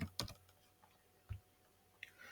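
Mouse clicks on an on-screen keyboard at a computer, a few sparse, close, crisp clicks separated by pauses, with a quiet background and no talking.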